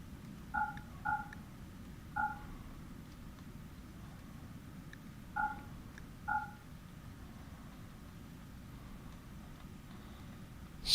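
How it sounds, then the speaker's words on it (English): Cats in a tribal-start colony in the video game Rimworld give about five short, clear meows spaced across a quiet stretch, each brief and moderately loud over a low steady hum. "They got cats."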